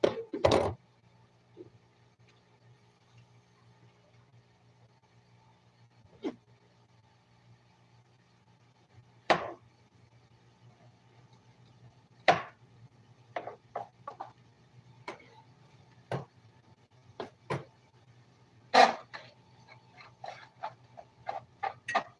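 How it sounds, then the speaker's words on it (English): Onions being chopped on a cutting board in a home kitchen: sparse, sharp knife knocks at first, then quicker irregular taps, all close and fairly quiet over a low steady hum. "So we're getting ready to cut up our onions and rinse that off."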